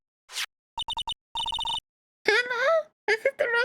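A telephone rings in the Ace Attorney Trials & Tribulations game, giving sharp bursts of electronic trills in two quick groups, followed by game voice sounds.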